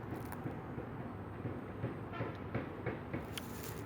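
A train rumbles along at a distance, a low steady roar with faint rhythmic clacks of wheels on rails.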